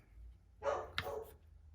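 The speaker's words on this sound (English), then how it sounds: "Sorry about the dogs." A couple of quick dog barks ring out in the distance, brief and muffled, against a quiet low hum.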